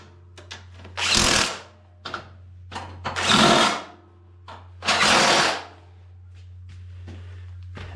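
Power tool driving 12mm bolts into a Honda HS928 snowblower gearcase: three loud whirring bursts of about a second each, close by, with small clicks and handling noises between them over a low steady hum.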